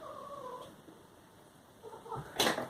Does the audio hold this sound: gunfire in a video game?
no